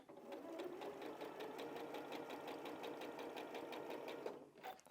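A sewing machine stitches a quilt block for a spools pattern, running steadily at close range with a rapid, even needle rhythm for nearly five seconds before stopping abruptly.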